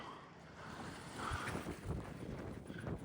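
Wind gusts across the shore at Sandy Point in Somers on a hot February day, a steady rushing roar with buffeting on the microphone and low rumbles that swell midway.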